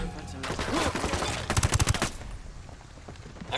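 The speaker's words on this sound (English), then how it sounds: "I'm shooting these fuckers." Gunfire in the video game Ghost Recon Wildlands, loud rapid bursts of shots with a tight volley near the middle, then fading into quieter trailing noise.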